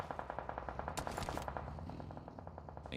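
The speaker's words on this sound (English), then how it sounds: "EVOS firing off some shots towards HVVP" Rapid automatic gunfire in a PUBG Mobile esports championship match, a steady stream of shots at even rhythm running the full length, fairly close and alone without talk.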